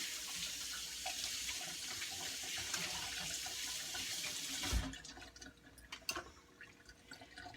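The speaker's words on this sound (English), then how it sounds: "Then I washed the peanut butter off my fingers" Running tap water pours into a sink as peanut butter is washed off fingers, a steady loud stream that cuts off partway, leaving quieter drips and splashes.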